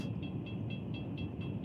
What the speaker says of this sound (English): this is gonna be like some random mystery train out of the blue that's gonna go on forever